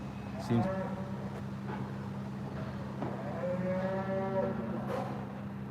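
Dairy cattle outside slaughterhouse gates give drawn-out, tonal moos, one early and a longer one midway, over a steady low engine hum and distant traffic.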